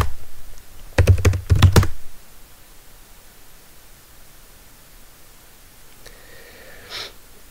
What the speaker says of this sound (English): first of all, you have to type sudo apt-get